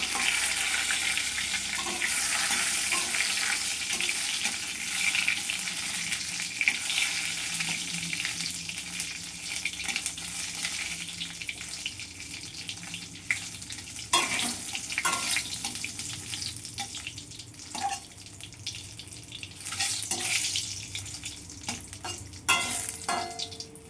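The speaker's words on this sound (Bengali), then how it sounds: "এবারে আমি কড়াইতে তেজপাতা দিয়ে দিলাম দুটো, শুকনো লঙ্কা দিয়ে দিলাম" Bay leaves, dried red chillies and cumin sizzle steadily in hot oil in a wok, a continuous close frying hiss with occasional stirring clinks and scrapes, no voices.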